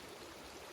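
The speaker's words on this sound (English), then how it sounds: "Camped on the river." A river flows past a tent at a campsite, a faint, steady rushing wash heard from nearby with nothing else over it.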